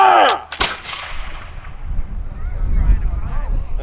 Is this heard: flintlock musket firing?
yes